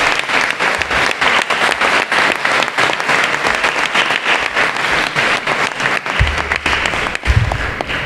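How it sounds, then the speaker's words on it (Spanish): A large audience applauds at the presentation of the Calagurritana Holy Week, loud and close, with crisp overlapping claps in a thick continuous burst. A few voices rise briefly near the end. "Un aplauso, ¿no?"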